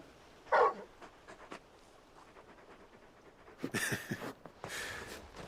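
A large dog in the video game Final Fantasy XVI pants and whimpers softly in a quiet scene, with a few brief breathy bursts standing out toward the end.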